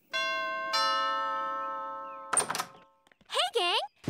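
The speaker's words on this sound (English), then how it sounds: "ring that bell" Two bright, ringing bell strikes sound in succession, each sustaining and slowly decaying, followed by a thump and cartoonish voices in an animated children's show.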